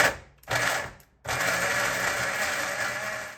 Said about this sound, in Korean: 나 지금 믹서기 너무 오랜만에 써봐가지고 뭔가 떨려.